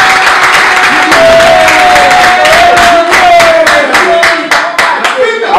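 Loud, close clapping and cheering from a crowd at a press conference for a concert, dense rhythmic claps with shouts layered over them, continuing throughout.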